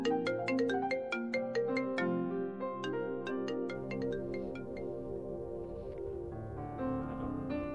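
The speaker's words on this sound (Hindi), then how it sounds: "किसकी कॉल आ रही है बार बार, कौन है?" A mobile phone ringtone for an incoming call chimes repeatedly in a melodic, tonal pattern, loud and close, continuing over a sustained musical backing for several seconds with no talk.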